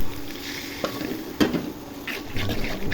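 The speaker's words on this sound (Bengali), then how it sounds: "আদা রসুন ভাজা হয়ে গেছে, এখন হলুদ মরিচ ধনিয়া লবণ একসাথে দিয়ে দেবো। পানি দিয়ে কষিয়ে নিব।" Ginger-garlic paste with turmeric, chili, coriander and salt frying in a pan, giving a steady close sizzle with a sharp scrape of stirring and a few spoon-on-pan clinks.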